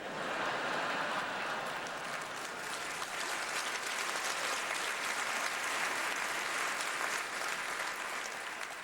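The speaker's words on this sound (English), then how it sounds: "That's a lot of clapping for lazy people." Audience applause at a comedy festival show in Winnipeg, a continuous, even wash of clapping heard at a distance throughout, with no talking over it.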